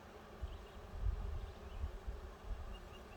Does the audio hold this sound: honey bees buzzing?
yes